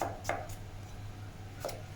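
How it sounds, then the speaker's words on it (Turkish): Three sharp knife chops through a tomato on a cutting board, two close together then one after a pause. "Böyle bir adet domatesimizi hızlı bir şekilde doğrayalım."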